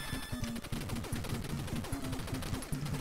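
Rapid retro 8-bit gunfire from the NES game Contra, a fast steady stream of repeated shots with electronic blips, continuous and fairly faint.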